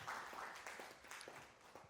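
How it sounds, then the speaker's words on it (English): Hand clapping from a seated audience after a photography talk, a short, steady patter of claps at moderate distance with no voices over it. "let's give a hand clap"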